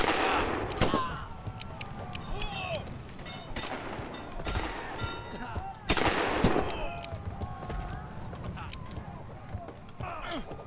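Pistol shots and clattering combat from the 3D pirate game Buccaneers! ring out among ship decks, several sharp bangs over continuous noise, with someone talking throughout.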